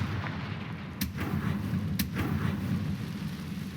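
Confringo fire spell cast in the Hogwarts Legacy video game, a deep rumbling blast with sharp cracks about a second apart over a continuous low roar.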